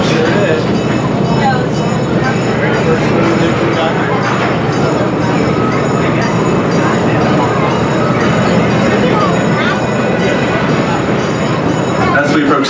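Busch Gardens Williamsburg amusement park train ride, modeled on Queen Victoria's Royal Train, rumbles and clatters steadily throughout, with a constant loud rolling roar and chatter of wheels on track while a voice talks over it.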